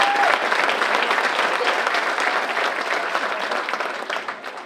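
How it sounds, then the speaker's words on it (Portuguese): A carnival audience gives a loud, dense round of applause for the author of the songs, steady and close, tapering slightly toward the end. "Pedi uma salva de palmas para o autor."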